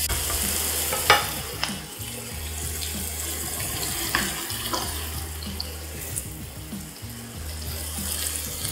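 Onions sizzling steadily in hot oil for salt and pepper cauliflower, with scattered clinks and scrapes of stirring over a low steady hum, close and moderately loud, no talking.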